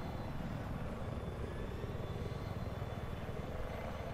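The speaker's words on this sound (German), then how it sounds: "Ich hab einen feindlichen Heli" An enemy attack helicopter in the video game Battlefield 4 flies nearby, its rotor giving a steady, rapid low thumping with a continuous engine whine, heard alone.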